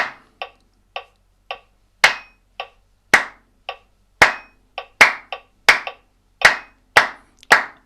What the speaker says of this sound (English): the clapping has begun, now finished